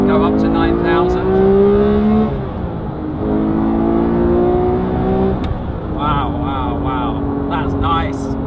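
A Porsche GT3 engine revs hard up to 9,000 rpm, rising in repeated climbing sweeps, loud and close inside the car, with occupants talking over it at times.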